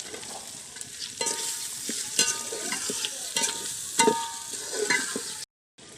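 Onions frying in oil with ginger-garlic paste for chicken biryani, a steady close sizzle broken by scrapes and clinks of a spoon stirring the pan, ending in a sudden cut to silence.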